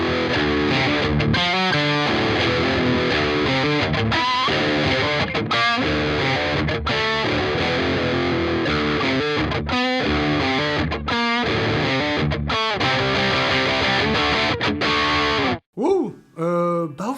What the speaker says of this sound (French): ce côté très brillant, très présence marche pas mal avec la distorsion